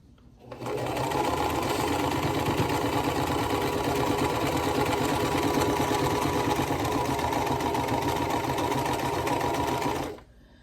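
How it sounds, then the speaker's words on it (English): A sewing machine stitches quilt block pieces together in one unbroken run of about nine seconds, a fast, even mechanical whir that starts and stops cleanly, close and loud with no talking. "We're going to sew these two together like so."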